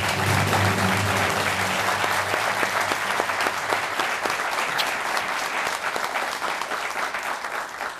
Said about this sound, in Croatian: Slobodno za Vučka, jedan veliki aplauz.